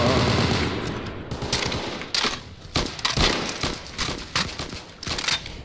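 An M1919A6 machine gun is hip-fired in the Vietnam War shooter Unit 1968 in loud, close, rapid bursts of shots with brief gaps between them, while someone talks over the firing.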